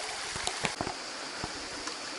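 A river flows and trickles steadily nearby along a trail to the Rioscuro waterfalls near Rome, with occasional splashes and knocks breaking the constant rush.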